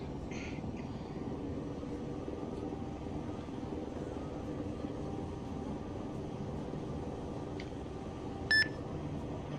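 An ArmA III military helicopter lifting off from a helicopter parking spot at an air base, a steady, droning rotor and engine noise lasting throughout, with a short electronic beep near the end.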